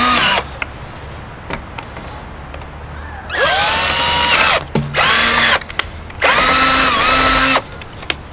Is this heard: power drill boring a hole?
yes